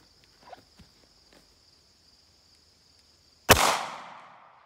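A single sharp gunshot from a .40 S&W pistol loaded with Federal 180 grain HST ammunition cracks close by after a few quiet seconds of faint movement, followed by a decaying echo.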